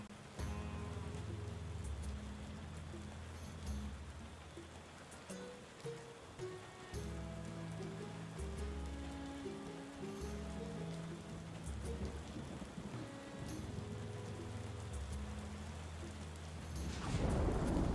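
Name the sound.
falling rain ambience in the video game Tavern Keeper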